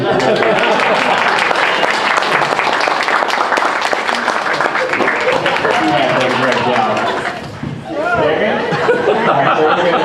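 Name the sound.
audience applause for a gentleman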